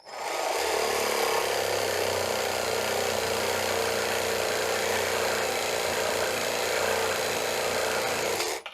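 A reciprocating saw fitted with a metal-cutting blade cuts through metal, making a loud, continuous motor buzz with a harsh rasp that runs unbroken for several seconds.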